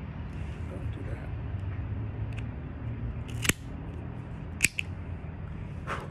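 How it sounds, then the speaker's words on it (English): A V-cutter notches a cigar with two sharp, quick snipping clicks a second apart, close and distinct against a quiet room hiss. "Today I got the old trusty V cut."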